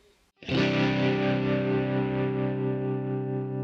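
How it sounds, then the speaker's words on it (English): A single guitar note rings out loudly through a VOX AC30 amPlug 2 headphone amp with tremolo, sustaining and slowly fading after a brief quiet lead-in, with no talking. "you might be able to slightly hear the tremolo effect"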